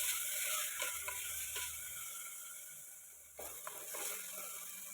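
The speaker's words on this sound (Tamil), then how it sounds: "இப்போது தக்காளி சேர்த்துக்கலாம். நல்லா கிளறி விட்டுக்கலாம்." Tomatoes, ginger and garlic sauté in a pan for a mutton bone soup, giving a steady close sizzle with brief scraping stirs of a spoon against the pan.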